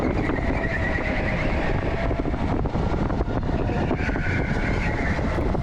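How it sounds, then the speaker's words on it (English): Electric indy kart racing around a track, a steady high-pitched motor whine over loud continuous rumble and wind, holding at a constant level throughout. "I'm just gonna let us listen to the electric whine of the engine."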